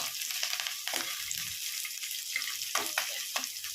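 Mustard seeds, curry leaves and chopped onion frying in oil in a pan for an Andhra-style okra curry, a soft continuous sizzle with a few sharper crackles and stirring knocks, fairly quiet and without voices.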